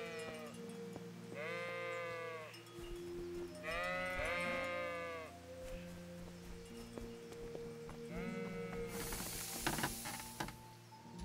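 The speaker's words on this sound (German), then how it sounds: "Naja, ihr Schafe." Several drawn-out sheep bleats in the video game Kingdom Come: Deliverance, one after another with short gaps, over a steady low hum, followed by a burst of hissing noise near the end.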